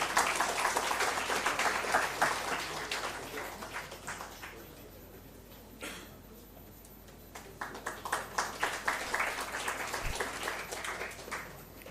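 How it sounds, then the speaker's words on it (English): An audience at an APEDA awards ceremony claps for a guest called on stage, moderate applause swelling, dipping briefly midway, then rising again, heard from a distance in a hall. "Can we have a round of applause, please?"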